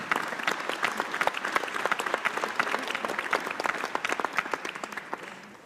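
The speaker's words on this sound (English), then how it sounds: "I'd like really all of you to join me in a round of applause for all our speakers" Steady audience applause in a large hall after a panel of speakers at an international conference on Ukraine's recovery in Berlin, dense continuous clapping that fades slightly toward the end.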